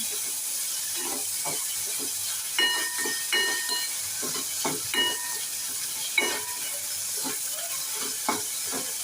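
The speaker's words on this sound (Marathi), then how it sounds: "आता आपण एक मध्यम आकाराचा टोमॅटो बारीक चिरलेला आहे तो घालूया आता छान परतून घेऊया" Finely chopped medium tomato is sautéed with fried onion in a pan, giving a steady close sizzle and hiss with repeated scraping stir strokes, no talking.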